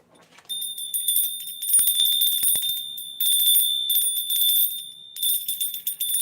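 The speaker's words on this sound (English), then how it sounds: "Let's ring the bell." A bell is rung over and over, a bright, sustained metallic ringing close by, with steady high tones and pulses of clanging; no voices.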